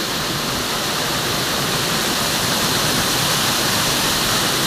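Magsaysay Falls pours in a loud, constant roar of rushing water, a dense broadband wash that stays steady and close without any voices.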